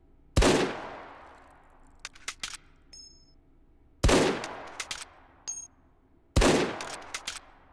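Three loud, sharp single gunshots in the VR game Hot Dogs, Horseshoes & Hand Grenades, evenly spaced a couple of seconds apart, each followed by a decaying echo, small metallic clinks and a high ding between shots.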